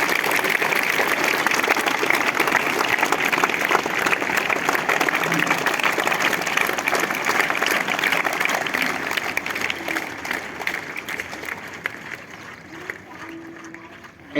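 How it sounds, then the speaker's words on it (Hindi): Loud, sustained applause from an assembled school crowd honours a judo/kudo winner, dense clapping that holds steady and then gradually thins toward the end. "जोरदार ताली।"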